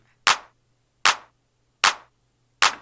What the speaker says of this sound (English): So, first drum I did was the Eurodance clap.